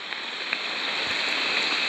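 Heavy rain pours down steadily during an overnight storm, a dense continuous hiss with scattered close drops and no voices.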